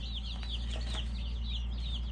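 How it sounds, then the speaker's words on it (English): Baby chicks on their first day, heard as a rapid series of high, close peeping chirps over a steady low background hum. "You give a little couple of chirps."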